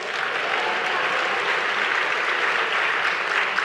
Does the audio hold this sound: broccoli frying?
no